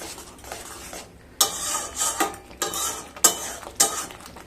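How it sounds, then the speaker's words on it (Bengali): Masala for potol chingri being stirred in a pan, a spatula scraping and clattering against metal in regular strokes over a soft sizzle, close up and fairly loud, no voices. "দিয়ে আবারও ভালোভাবে কষিয়ে নেব।"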